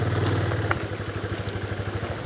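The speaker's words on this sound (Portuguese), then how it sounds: "Com a moto pesada eu vou ter que acelerar pra caramba." A heavy motorcycle revs hard while crossing a muddy jungle bog, its engine note throbbing in a steady, pulsing rhythm close up, loud and alone throughout.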